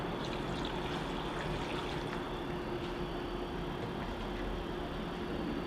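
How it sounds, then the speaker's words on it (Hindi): Two cups of water are poured into a pot of beef chops, a soft steady trickle and splash under a faint kitchen hiss, with no talk. "अब मैं इसमें 2 कप पानी डालने लगी हूँ।"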